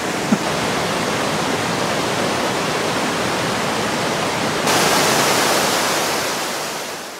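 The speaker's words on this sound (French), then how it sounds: "tout le loisir d'apprécier ce qu'est un torrent sauvage" Nant Bénin, a wild mountain torrent in Savoie, makes a dense, continuous rushing roar of fast water, loud and close, steady throughout with a slight rise midway before easing toward the end, no voices.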